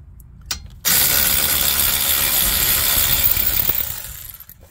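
A 3/4-inch ratchet backs out loosened brake caliper bracket bolts on a 2015 Buick Encore, making a close, loud run of rapid clicking that lasts about three seconds and then fades, with no voices.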